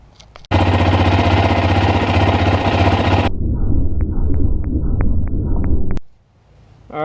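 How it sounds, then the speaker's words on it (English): A car engine starts up after an oil change and runs loudly and steadily for several seconds, its tone shifting partway through before it cuts off abruptly near the end. "you fire up the engine"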